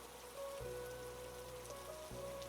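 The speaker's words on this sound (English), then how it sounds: "The rain outside is your lullaby tonight." Rain falls outside as a soft, steady patter with a faint low hum beneath it, quiet and even throughout.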